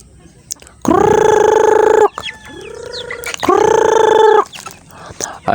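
Chickens cluck and squawk loudly at close range in two long bursts, with shorter clucks and rustling noises between them.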